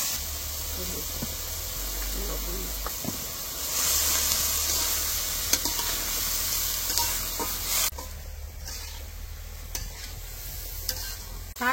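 Bathua greens stir-fried in a pan, a steady loud sizzle and hiss with occasional clatters from stirring, close and continuous.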